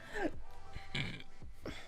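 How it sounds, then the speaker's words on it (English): Several short, close burps in a row after drinking a lot of water, each a brief guttural release separated by small pauses. "I just drank a lot of water, now I'm burping"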